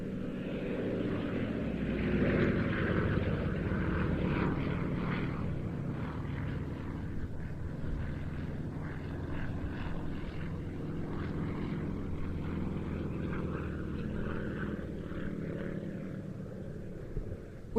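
Several propeller-driven light aircraft flying together in an airshow formation team display, a steady continuous engine drone that sounds moderately distant and holds fairly even in level throughout, with no talk over it.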